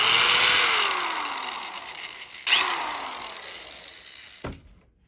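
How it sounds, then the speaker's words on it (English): A power drill bores a hole in a small painted craft piece taped down to hold it steady, its whining motor starting loud, dipping in pitch, then tailing off, with two sharp knocks near the end. "You're going to drill straight up and down."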